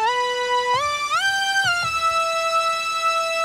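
Sawtooth synthesizer lead with 2-voice unison and added noise, playing a few gliding held notes, bright and buzzy with rich harmonics, sounding alone without any voice.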